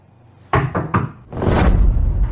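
Three quick, loud knocks on a door, followed by a rougher burst of banging or rattling that continues to the end.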